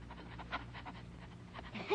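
A cartoon dog pants in quick, breathy, rhythmic huffs, close and moderately loud, with a faint whimper near the end in a classic Cuban animated short.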